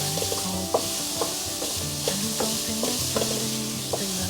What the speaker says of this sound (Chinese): 把所有调味料炒匀